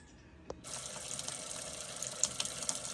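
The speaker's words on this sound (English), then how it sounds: "we got water down here on the sink too" Water runs steadily from a sink faucet after a repaired water line is turned back on, a soft hiss starting abruptly after a faint click and continuing evenly with small splashes.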